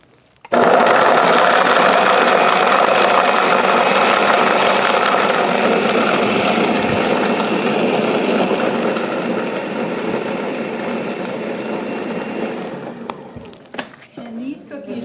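A motorized appliance grinds frozen oatmeal raisin cookies, a loud steady whirring roar that starts abruptly, runs for many seconds with slight pitch shifts, then winds down.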